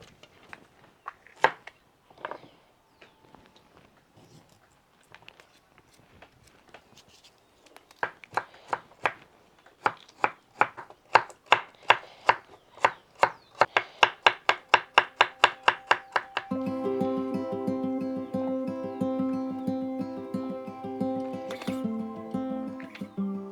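A knife chops carrots for fanesca, the Ecuadorian Holy Week soup, first in scattered strikes, then in a quick, even run of crisp, close board knocks before steady music takes over the second half.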